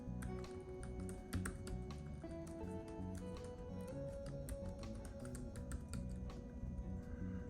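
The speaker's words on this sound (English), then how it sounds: "So I am going to pan up here real briefly and type in a password." Quiet, steady keystrokes on a MacBook Air A1465 keyboard while a password is entered, the soft clicks coming in a brisk, even run over a faint electronic hum.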